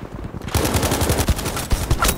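Rapid automatic gunfire in Battlefield V during an attack on an artillery emplacement, a close, steady rattle of rounds starting half a second in with a few louder cracks layered over it.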